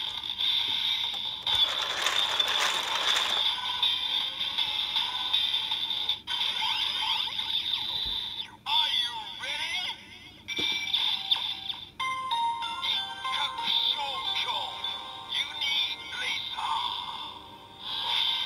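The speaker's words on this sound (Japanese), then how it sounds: "なんだこの神秘的な変身音" A Kamen Rider Build Hazard Trigger toy plays its electronic transformation sound: tinny beeps, ringing synth tones and mechanical clicks in a busy shifting sequence from a small speaker, with voice-like snippets mixed in.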